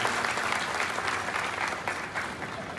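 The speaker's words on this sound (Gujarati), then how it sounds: "મિત્રો, એકવાર જોરદાર તાળીઓથી એમને વધાવીએ." Audience applause at a Gujarati political gathering welcoming a district party president, steady dense clapping throughout at moderate volume with no talk over it.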